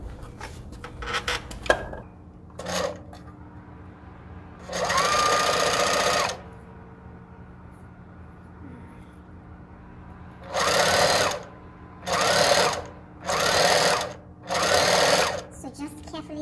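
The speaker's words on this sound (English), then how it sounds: "I'm stitching the lace on the outside of my fabric" A sewing machine stitches lace onto the outside edge of fabric, running in loud whirring bursts: one long run, then four shorter runs with brief pauses between them, with a voice talking in the quiet gaps.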